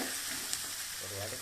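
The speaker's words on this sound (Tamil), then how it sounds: "பாருங்கள், நல்லா எண்ணெயில் போய் ஒரு வதக்கணும்." Ingredients for rava upma sauté in hot oil in a pan, giving a brief, steady close sizzle with a faint undertone of stirring.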